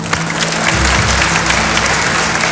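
A quiz show studio audience breaks into sustained applause, loud and dense clapping that swells after a moment and holds steady to the end.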